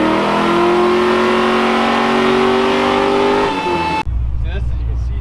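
A 2017 Camaro SS engine on a dyno holds a loud sustained roar that climbs steadily in pitch over several seconds, then cuts off abruptly into a low rumble.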